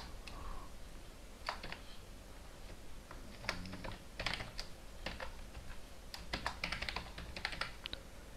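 Quiet typing on a computer keyboard while coding, with irregular clusters of light key clicks and taps, close but soft, and no talking.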